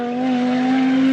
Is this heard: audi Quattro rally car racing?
yes